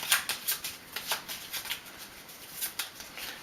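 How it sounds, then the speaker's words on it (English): A deck of game cards riffle-shuffled close up, a quick run of soft rhythmic riffles and bridges, no talk. "So, give it a good shuffle."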